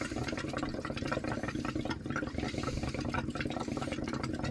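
Steady rushing water fills caravan pipes alongside a constant low mechanical rumble, continuous and fairly close with no talking.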